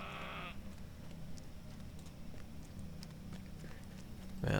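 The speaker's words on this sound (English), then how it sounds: "let's get this goat up here" A goat bleats in a video game, a short clear bleat at the very start followed by a steady low ambient game background with faint clattering, then a brief louder burst at the end.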